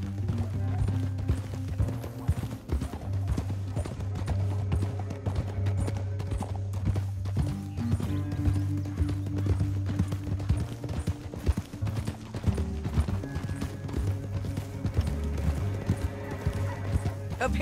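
Rhythmic clip-clop of horse hooves at a steady gait in the video game Red Dead Redemption 2, continuing throughout, with occasional whinnies and a rumbling game soundtrack underneath.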